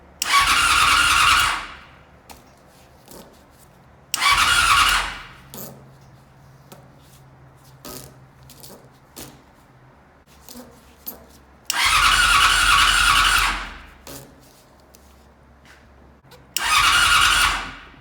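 An old motorcycle that has sat unused for years cranks repeatedly without catching, four loud broadband bursts of a couple of seconds each separated by quiet pauses with faint clicks.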